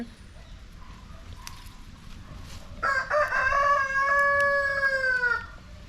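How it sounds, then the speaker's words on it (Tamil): A rooster crows once in a village, a long loud cock-a-doodle-doo rising out of quiet background noise and holding for a few seconds. "கோழி கூப்பிடுது"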